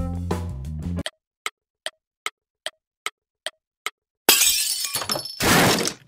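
An object gets knocked off a table and crashes, a loud burst of breaking and clattering that follows a run of sharp, evenly spaced clock-like ticks in near silence.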